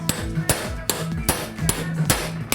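A hammer strikes a seized bolt held in a vice, about seven sharp metallic taps at a steady pace, each with a short ringing tone, close and clear with no talking.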